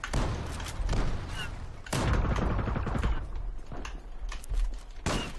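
Rapid automatic gunfire and bursts of shots in the online shooter game Zula, dense and continuous with loud impacts throughout, dominating the mix with little audible talk.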